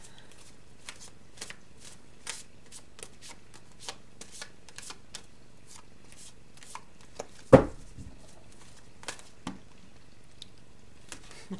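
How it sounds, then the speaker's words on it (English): Tarot and oracle cards being shuffled by hand, soft papery riffles and taps in an irregular rhythm with one louder slap partway through, quiet and close with no talking. "I'm going to go ahead and draw the cards"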